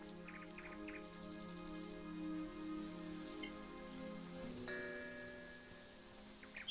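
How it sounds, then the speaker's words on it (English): Rain in the video game Eastshade grows into a downpour, a constant patter with a few bird chirps and tonal game sounds layered over it. "那太阳的感觉没了，慢慢变暴雨了。"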